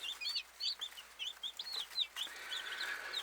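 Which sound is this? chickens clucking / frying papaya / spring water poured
chickens clucking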